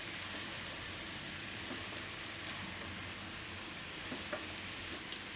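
Poha being stirred in a pan: a continuous soft sizzle and scraping hiss with occasional faint clicks of the spoon, steady and fairly quiet, with no voices.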